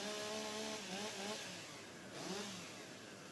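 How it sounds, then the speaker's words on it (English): Chainsaws are revved to warm them up before a STIHL Timbersports Rookie World Championship event, their engines whining in faint, distant rising and falling pulls over a broad background hiss. "Okay, gentlemen, warm up your saws."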